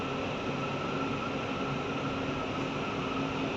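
A steady, even rumble and hiss fills the inside of a moving Malaysia MRT metro train, with no voices and no break in the noise.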